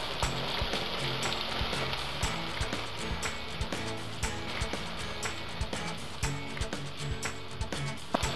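Potatoes sauté in a hot spiced pan, a constant close sizzle with sharp crackles and occasional utensil taps over a low background hum, no voices.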